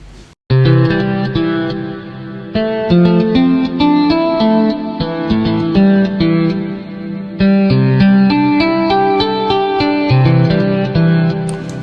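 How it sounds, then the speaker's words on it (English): A bright, clean synthesized electric guitar preset in FL Studio's Patcher plays a melodic line with chords and single notes, steady and upfront, with a touch of effects and reverb. "and the guitar sound like this"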